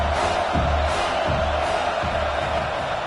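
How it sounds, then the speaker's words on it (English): A home stadium crowd roars in the College Football 26 video game, a loud continuous wash of cheering with rhythmic thumping beats pulsing underneath. "how nice is it to have the home crowd going absolutely bananas?"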